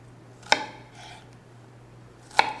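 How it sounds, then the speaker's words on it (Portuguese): A knife chops onions into eighths on a cutting board: two sharp, isolated cuts about two seconds apart, close and clear against a quiet kitchen hum. "E a cebola, o corte é que a gente chama em oito."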